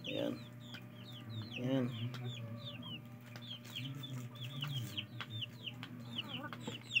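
Chickens clucking and pecking at papaya leaves on a farm, a busy chorus of short close clucks and chirps under a steady low background hum, with a person speaking briefly.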